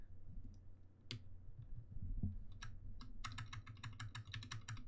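Typing on a custom mechanical keyboard to test its stabilizers, with quiet scattered clicks at first and then a quick, crisp run of keystrokes close up over a faint background hum.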